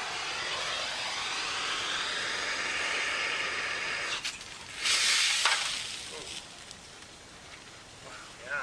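Commercial thermite reaction burning and spraying molten iron into the air, a steady loud hissing roar that surges into a brighter crackling burst midway, then fades back to a rougher sizzle.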